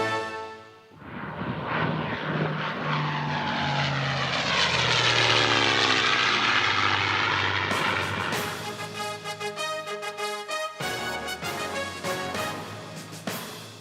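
A P-51 Mustang propeller fighter plane roars past, swelling from quiet to a loud throbbing drone with shifting pitch as it passes, then trailing off into a choppier engine note.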